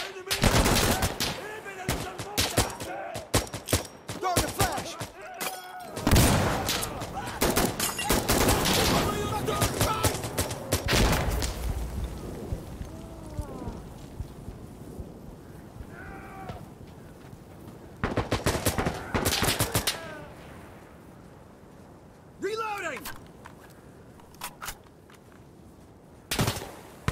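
CAR-15 rifle fire in Insurgency Sandstorm, rapid bursts of sharp cracking shots in clustered volleys with gaps between them, mixed with distant gunfire, footsteps and occasional speech.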